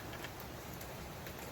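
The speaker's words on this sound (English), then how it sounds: "It's raining like cats and dogs outside." Steady broadband hiss of heavy rain falling outside, constant and fairly faint, with occasional louder patters and no voices.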